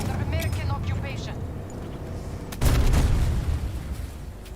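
A single booming explosion in the Battlefield V war game erupts midway, loud and rumbling as it fades, following quieter battle noise and effects.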